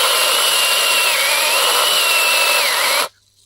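A Bosch CSM 1815 18 V cordless mini chainsaw, running on a Chinese-made battery, whines steadily as it cuts through wood, loud and continuous for about three seconds before stopping abruptly.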